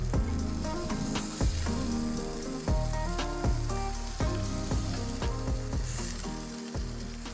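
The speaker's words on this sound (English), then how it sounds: "I'm gonna fry up the vegetables in there" Vegetables hiss and sizzle steadily in a hot Dutch oven over a campfire, with repeated scraping and stirring knocks breaking through the crackle.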